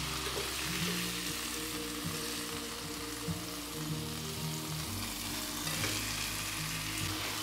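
Food frying in a pan, a soft steady sizzle with crackling and occasional stirring scrapes, continuous and fairly quiet with a low hum beneath.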